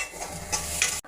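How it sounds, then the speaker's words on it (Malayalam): Water with carrots boiling in a pot for upma, a close, steady bubbling hiss with brief louder pops, ending abruptly. "ക്യാരറ്റും കൂടി ഇട്ട് നല്ലപോലെ വെള്ളം തിളച്ചിട്ടുണ്ട്."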